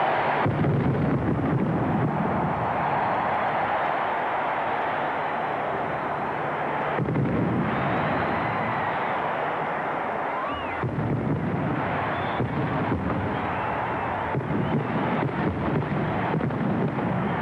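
Booming fireworks at the 1994 MLB All-Star Game in Pittsburgh, a dense roar of blasts and crackling rolling continuously over crowd noise and wind, with a brief lull midway before the bursts resume loudly.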